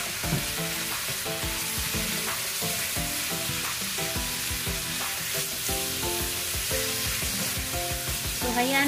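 Pork seasoned with salt and pepper, tossed into a pan of browned onion and garlic for pancit canton, sizzles loudly and steadily, with repeated scraping and stirring knocks throughout and no talking.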